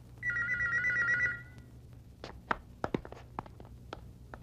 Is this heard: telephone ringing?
yes